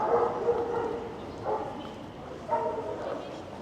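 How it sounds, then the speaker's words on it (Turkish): Street dogs barking outdoors in a Turkish town, several bursts spread through the scene at moderate distance, mixed with background street noise and someone talking. "Ya her tarafta sokak köpeği."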